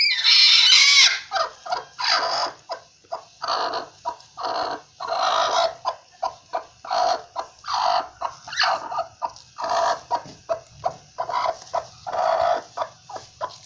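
A brooding hen sitting on eggs clucks in a rapid, repeated series of short close calls, fairly loud and steady, with no talk.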